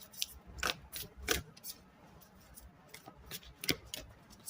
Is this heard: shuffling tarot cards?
yes